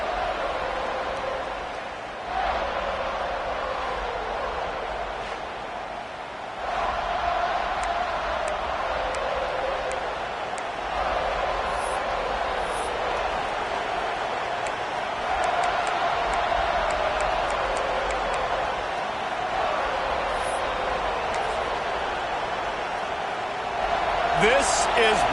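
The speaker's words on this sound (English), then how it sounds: "This crowd's ready to make its presence known." A steady, broad roar from a stadium crowd at a Florida State versus Virginia college football game, with a commentator talking over it. The crowd noise swells slightly in places and carries on through the clip.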